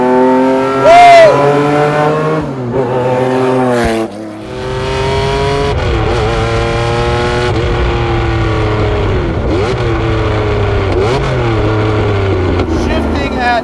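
A Lamborghini Diablo SVR, the factory race car, revs hard through the gears on a hot Miami drive, its engine climbing and dropping with each gear change, loud and close, while someone talks over it and the cabin booms and whines.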